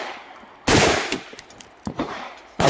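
A brand-new AR-15 rifle fires loud, close, sharp bursts, three separate volleys with brief quiet gaps between them.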